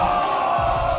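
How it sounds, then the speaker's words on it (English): A crowd cheers and roars throughout a Tekken 7 top-eight match at the JEMPUTAN 2023 tournament, a dense, steady wall of voices with no break. "everyone's cheering for Feng"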